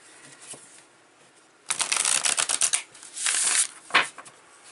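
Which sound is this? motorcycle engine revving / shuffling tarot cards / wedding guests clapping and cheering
shuffling tarot cards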